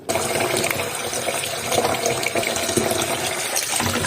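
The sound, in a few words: water running while washing salted fish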